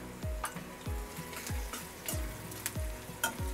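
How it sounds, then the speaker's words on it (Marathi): Onion roasting in a pan for a dry Maharashtrian cluster-bean and green-chilli bhaji, giving a steady close sizzle broken by a few regular scraping stirs, with no talk. "कांदा बघा असा भाजून घ्यायचा"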